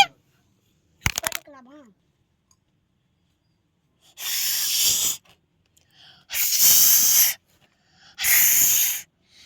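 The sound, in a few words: pressure cooker whistling steam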